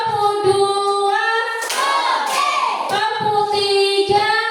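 A primary-school class claps together in a rhythmic cheer for a classmate group, with sharp hand bursts in short counted sets and a louder flurry in the middle over a steady sung or musical tone.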